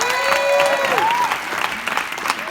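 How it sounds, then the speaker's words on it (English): A crowd applauds a DJ who is standing in for another DJ at a live stage event; steady, dense clapping fills the space while a sliding tonal sound, like a whistle or synth sweep, rises and falls above it. "Give him a round of applause."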